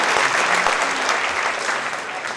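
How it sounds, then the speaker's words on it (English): Loud, dense applause from an audience for the judges at a royal court pageant, a continuous roar of clapping that holds steady and tapers only slightly toward the end. "a round of applause for our judges as well"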